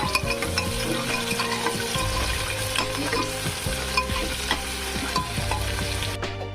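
Onion and garlic fry in mustard oil with bay leaves in a pan, a steady loud sizzle with stirring scrapes and utensil clinks throughout, no voices.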